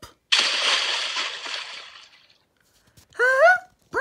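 A person jumps into water with one sharp, loud splash, followed by sloshing that fades over about two seconds. A bright voiced exclamation comes afterward.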